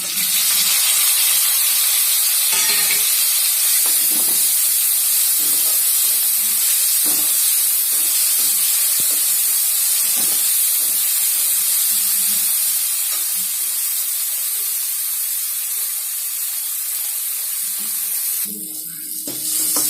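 Chopped tomato frying in a pan with carrot, beans and radish, giving a steady close sizzle and hiss throughout, with faint scraping stirs now and then.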